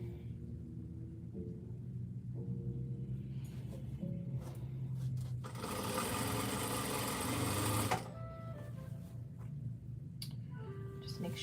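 A sewing machine stitches a girl's dress in one steady, close run of a few seconds. Quieter handling and shuffling noises come before and after it.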